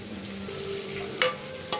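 A spoon stirs fish gravy (fish pulusu) simmering in a pan, giving a steady low sizzle with two brief scraping strokes near the end and no talking.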